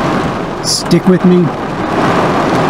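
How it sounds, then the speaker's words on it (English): Heavy, wind-driven rain falls during camping in Prescott, Arkansas, as a loud, steady hiss throughout, with a brief spoken phrase partway through. "And it's raining sideways."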